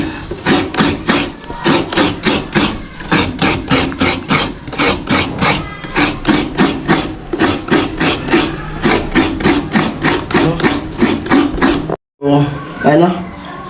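A kiskisan, the traditional Bicol coconut grater, shreds coconut in steady, loud, rhythmic scraping strokes, about two per second, close up, ending abruptly before a brief pause and softer handling.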